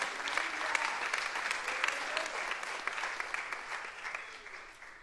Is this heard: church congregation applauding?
yes